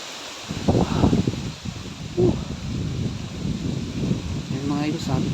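Strong wind rushes through trees in Davao, giving a continuous gusty rustle that swells and fades. Someone talks over it at times.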